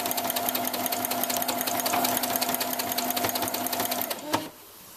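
A sewing machine runs steadily and loudly while stitching a crib sheet, with a rapid, even mechanical rhythm that stops abruptly near the end, leaving quiet room tone.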